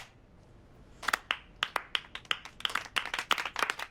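A slow clap that starts after a quiet second: sharp individual hand claps, close and distinct, coming at a steady deliberate pace that gradually quickens, with several hands joining toward the end.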